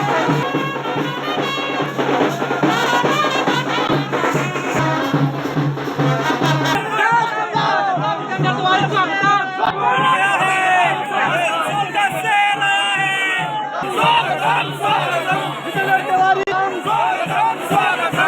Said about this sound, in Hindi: समर्थकों ने गाजे बाजे के साथ उनका भव्य स्वागत किया।